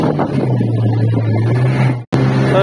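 A speedboat engine drones steadily and loudly on a sea tour, with wind buffeting the microphone; the sound cuts out briefly near the end, then resumes.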